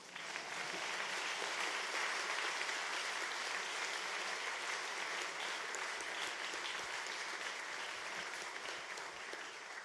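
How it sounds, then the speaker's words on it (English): A large audience at the HackZurich 2017 hackathon closing ceremony applauds a team with a continuous, even wash of clapping that stays at a steady, moderate level for about ten seconds. "please give a big round of applause to Robotair"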